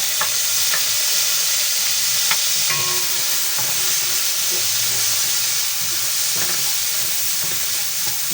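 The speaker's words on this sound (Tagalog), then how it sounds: "Gisa-gisa lang po, gisa-gisa." Garlic and onion sautéing in a hot pan for a Bicol Express chicken dish, a steady close sizzle and hiss with a few scraping stirs of a spatula, no one talking.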